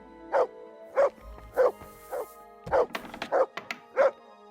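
A dog barks in the video game Kingdom Come: Deliverance 2, seven or eight sharp, evenly spaced woofs at close range, with a short scuffle of softer yips in the middle.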